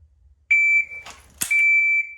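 Two sustained electronic shot-timer beeps, each about half a second long, separated by a sharp click of a dry-fired Ruger LCR22 trigger in between, close and clear.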